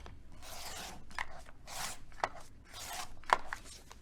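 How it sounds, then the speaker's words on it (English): Scissors cutting a paper foundation block for a rose quilt, with several quiet snips and crisp rustles of paper in uneven bursts, close and alone with no talking. "I'm trimming those lines only. You're going to cut exactly on the line."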